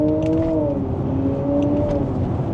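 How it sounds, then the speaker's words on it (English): An electric car's artificial engine sound hums close by at steady revs, its tone rising and dipping slightly like simulated gear changes, with no one speaking. "in a fake gearbox if you just floored it and you didn't bother changing gear?"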